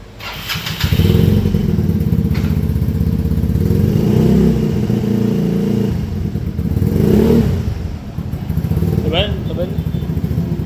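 A 140 cc motorcycle with a prototype exhaust idles and revs with a deep, bassy note, steady and loud for most of the clip, with voices briefly audible near the end.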